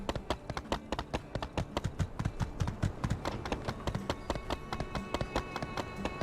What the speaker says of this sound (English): Who the hell is riding your horse?